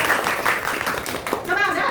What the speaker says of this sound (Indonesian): kita beri tepuk tangan buat Angel.